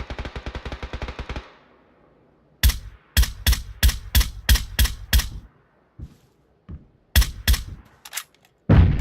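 Gunfire in the video game PUBG: a rapid automatic burst, then a string of sharp, evenly spaced loud single shots, a pause, and a few more shots ending with one last report, all close and with no talking.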